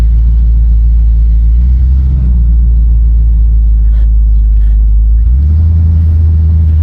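The 350 V8 engine of a 1972 Oldsmobile Cutlass Convertible runs with a steady, deep rumble, close by, swelling briefly as the throttle opens near the end.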